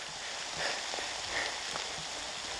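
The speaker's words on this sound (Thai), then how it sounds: "ฝนตกหนักมากเลย" Rain falls on a mountain trail as a constant, moderately faint patter of drops hitting surfaces, with no talking.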